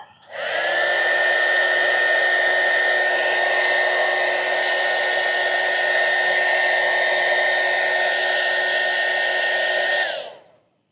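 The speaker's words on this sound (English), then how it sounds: "if you're using a hairdryer, high setting, you might have to hold it on there a little bit longer" A hair dryer on its high setting runs loud and steady at a high whine for about ten seconds, starting and stopping abruptly, heating a 2021+ Ford Bronco door trim piece.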